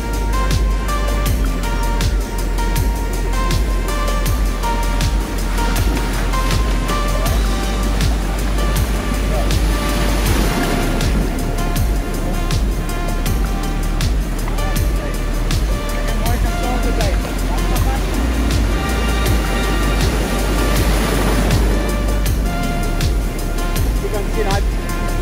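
Ocean waves surging up a beach and washing over a landed fish on the shore: steady rushing surf with two louder wash swells, under constant wind noise and someone talking throughout.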